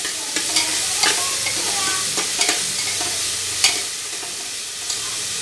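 Tomato and spice masala for soybean rice sizzle loudly in a pan while a spoon stirs, with a constant frying hiss broken by frequent scraping strokes and clinks.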